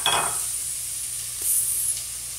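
Food hits a hot pan while making soup, giving a steady, bright sizzle that holds throughout with a brief louder flare near the start and another swell midway.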